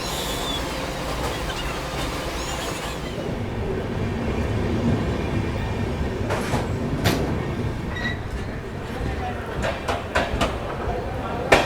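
A passenger train rolls into Siwan Junction in Bihar, its steady rumble and rail clatter carrying throughout, with brief metallic squeals and clicks near the end and people talking faintly in the background.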